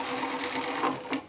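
A sewing machine stitches down a pocket seam on striped fabric, a close steady mechanical whirring with quick rhythmic needle clatter and a couple of louder thumps near the end.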